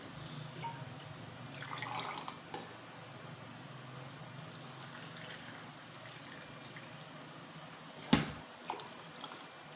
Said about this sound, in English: So first let's put 2 cups of hot water,